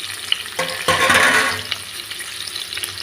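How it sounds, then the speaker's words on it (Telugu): Chopped onion pieces hit hot oil in a pan and burst into a loud, close sizzle that swells, then settles into a steady, quieter frying hiss, with no talking. "దీనిలో కట్ చేసి పెట్టుకున్న ఉల్లిపాయ ముక్కలు వేస్తున్నాం"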